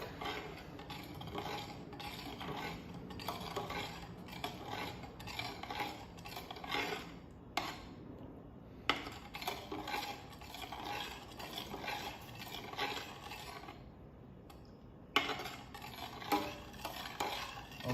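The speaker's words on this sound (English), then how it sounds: "we put the yogurt in. I'm gonna stir it really gently. Let the yogurt melt in the milk." Spoon slowly stirring yogurt into warm milk in a pot to make Lebanese labneh, soft repeated scraping and swishing strokes with brief pauses, close and quiet.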